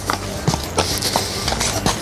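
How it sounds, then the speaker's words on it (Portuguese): A horse walks at a steady pace during a riding lesson, its hooves clip-clopping in a regular rhythm of close, distinct strikes over faint background noise. "Encostou a perna, é automático, o cavalo anda."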